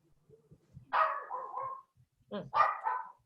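A dog barks during an online council meeting, two drawn-out, whiny barks or yelps heard close and moderately loud, with faint background sounds between them.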